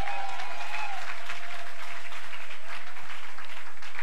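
A church congregation applauding at a Sunday service, sustained even clapping from many hands throughout, with a faint tone lingering at the start.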